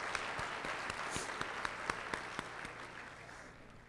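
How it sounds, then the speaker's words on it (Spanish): Audience at a Latin American logistics conference applauds, a room full of hands clapping with a few sharper, closer claps standing out before it gradually thins. "empecemos un poco con un aplauso para entre todos"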